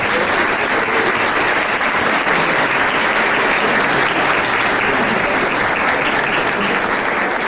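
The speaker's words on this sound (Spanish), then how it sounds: "el doctor Henry Pérez, a quien también le damos un fuerte aplauso." Loud, sustained crowd applause at a political campaign rally in Argentina, dense steady clapping filling the whole stretch without pause.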